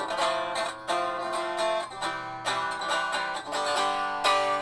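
Bright, resonant Tanglewood Memphis 335-type semi-hollow electric guitar strummed and picked unplugged, a chord progression with clear attacks every second or so, played close and fairly loud.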